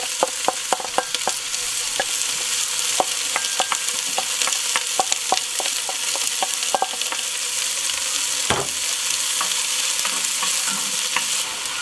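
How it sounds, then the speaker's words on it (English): Onions sizzle and fry in hot olive oil in a Dutch oven, a steady crackling hiss broken by frequent sharp pops and stirring scrapes, close and continuous with no talk. "now we're going to add the onions and give them"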